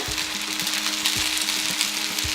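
Beef and broccoli sizzling in a hot pan with green onions, a steady loud fry with soft stirring scrapes recurring every half second or so, no voices.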